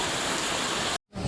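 Steady, dense hiss of heavy rain starting to pour during a storm at an outdoor Sunday market, loud and continuous before a sudden brief cutoff.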